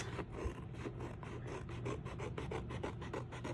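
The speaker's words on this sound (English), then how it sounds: "Meet in the middle, and then I will trim the edges like this." Quiet rhythmic rasping as blades trim the edges of a paper file folder, a run of short repeated scraping strokes at close range with no voices.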